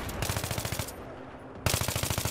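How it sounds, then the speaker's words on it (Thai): Automatic gunfire rattles in the video game Battlefield 3, two rapid bursts of close, loud shots with a short pause between them. "ทำไมปืนนี้มันลั่นไวด็กวะ"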